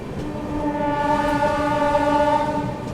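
Aboard the executive coach of the Ranchi–Howrah Shatabdi Express, the train runs with a steady loud rumble while a sustained tonal horn sounds over it.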